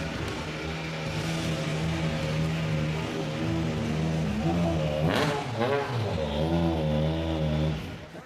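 Hyundai i20 Coupe WRC rally car engine revving loudly nearby at an awards ceremony, a rising, harmonic-rich roar with a sharp blip midway before settling and cutting off.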